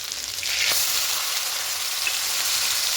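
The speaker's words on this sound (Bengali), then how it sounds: "এখানে আদা রসুনের পেস্টটা দেবো একটু ভালো করে তেলের সঙ্গে মিশিয়ে নেব এবার এখানে দেবো পেঁয়াজ পেস্ট" Ginger-garlic and onion paste frying in oil, a bright steady sizzle that swells after a moment and carries on evenly, close up with faint stirring.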